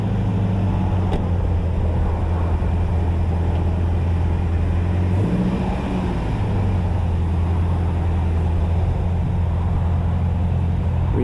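A Toyota Tacoma pickup with rusted frame driving off a long trailer without ramps, its engine giving a steady, close, low rumble that shifts briefly midway, then settles back into an even drone.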